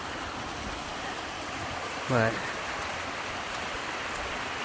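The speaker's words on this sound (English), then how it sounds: "another little waterfall coming down from the mountains" A small mountain waterfall on a hiking trail gives a steady, broad rush of falling water throughout, with a brief word spoken over it partway through.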